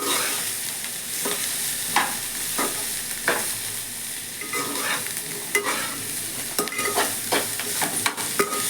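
Sweet corn snack being stirred with chili powder and salt in a pan, close scraping strokes of a spoon with light sizzling underneath, repeated at an uneven pace.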